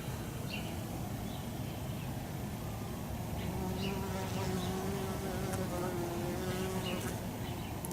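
Honey bees fly around a hive entrance in March in New England, carrying pollen in; a soft, steady buzzing drone fills the whole stretch, with a few louder passes and faint chirps in the background.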